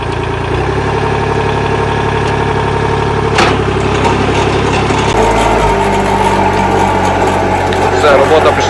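A motor cultivator engine runs steadily while digging a vegetable garden in Syracuse, New York, a loud, continuous close-up chug whose pitch drops partway through as the load changes.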